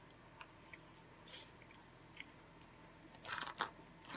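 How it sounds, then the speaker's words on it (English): Close, quiet chewing and crunching during a mukbang meal of ramen noodles, egg rolls and tomato, with scattered soft bites and then a denser burst of crunchy chewing near the end. "chewing them? So much better chewing sounds"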